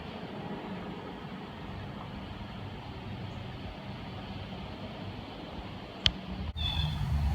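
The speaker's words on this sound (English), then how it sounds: "This helicopter moves quite like airplanes. It makes almost the same noise" A steady, low engine rumble of a helicopter passing overhead, droning evenly throughout, with a brief sharp knock near the end.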